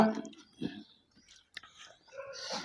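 Chicken feet being chewed and sucked up close, with wet slurping and squelching bursts separated by short pauses, moderately quiet and irregular.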